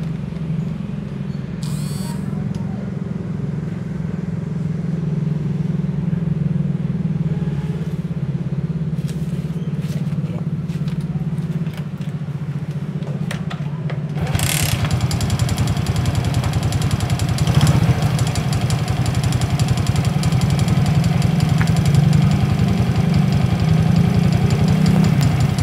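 A Suzuki Shogun R 110 motorcycle engine turns over and settles into a loud, close idle with a steady rumble and faint knocking, a brief quieter stretch before it catches firmly.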